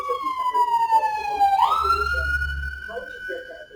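A wailing emergency siren sweeps down in pitch then jumps back up into a steady high tone, loud and fairly close, over a low rumbling background.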